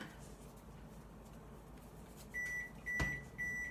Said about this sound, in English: do you hear the beep, beep, beep? That's my oven saying that it's ready